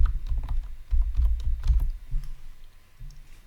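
Fingers tap steadily on a computer keyboard in a dense, clicky rhythm, with a few heavier keystrokes such as an enter press near the end. The sound is close and there is no speech.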